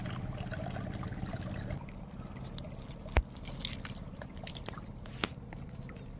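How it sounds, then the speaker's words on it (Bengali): Water trickles and gurgles out through a sluice mouth on a Sundarban river bank, a steady close flow with scattered drips and a couple of sharp knocks. "ঝোড়ার মুখ দিয়ে জল সরছে"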